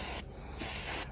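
An aerosol can sprays vinyl, plastic and carpet dye onto a golf cart seat, giving close, loud hissing bursts with brief pauses between passes.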